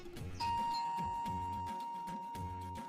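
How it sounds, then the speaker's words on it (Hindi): A doorbell chimes at a front door, a single steady electronic ding ringing out clearly against quiet background music with no one speaking. "घंटी दरवाजे पे बजी है"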